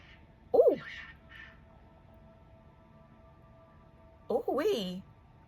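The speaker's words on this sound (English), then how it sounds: "our neighborhood cats are fighting" Neighborhood cats fighting in the distance, two short bursts of yowling separated by a few seconds of quiet, faint against low background hum.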